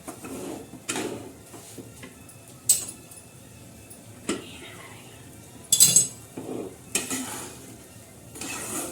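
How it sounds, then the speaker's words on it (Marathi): Semolina (rava) dry-roasting in a pan while a spoon stirs it, heard as intermittent metallic scrapes and clinks against the pan over a faint, quiet background, close by. "हे बघा असा रवा आपला मस्त भाजत आहे"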